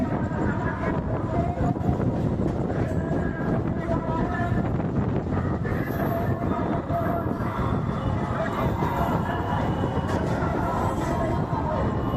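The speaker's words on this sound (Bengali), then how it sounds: "আমাদের ট্রেন পার করছে আরও একটি স্টেশন খন্নান" Heard from on board, a Howrah–Bardhaman local train rolls past Khannan station with a continuous rumbling clatter and wind rush, steady and loud throughout.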